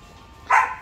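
A young Belgian Malinois lets out a single loud, close bark about halfway through, after a stretch of low background noise.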